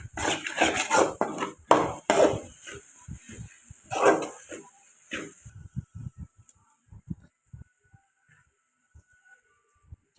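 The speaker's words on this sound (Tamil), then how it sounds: "சப்பாத்தி நம்ம போட்டு நல்லா கிளறி விடலாம்" Torn chapathi pieces are tossed and stirred into spicy chilli masala in a pan with a spoon, giving a dense burst of scraping clatter that thins out into sparse, quieter taps and clinks.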